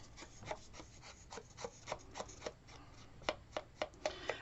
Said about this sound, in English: I'm going to go ahead and lay my burnishing tool, or my smudging tool over just a little bit in the corners